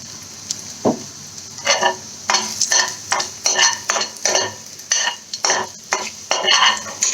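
Carrots and tough vegetables for a Thai vegetable curry stirred and tossed in a pan, a quick series of scraping, sizzling strokes under a steady frying hiss, close and fairly loud.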